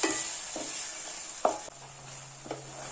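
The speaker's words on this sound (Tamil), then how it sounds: "இதை 1 நிமிஷம் இந்த எண்ணெயிலே நல்லா வதக்கிக்கோங்க" Ground masala paste sautés in oil in a pan for a fish curry, a soft steady sizzle broken by a few spatula scrapes and taps, close and quiet.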